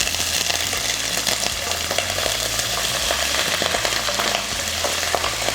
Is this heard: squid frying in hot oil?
yes